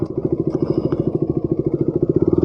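A KTM Duke 250 motorcycle engine runs close by with a steady, rapid thumping beat, its low pulses even and unbroken throughout.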